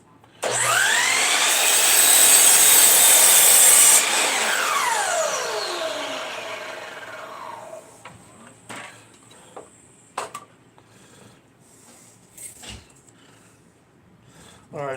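A power saw cuts through a piece of wood in a woodworking shop, roaring loudly and steadily for several seconds with a whining pitch that falls as the blade spins down, followed by quieter clunks and handling noises.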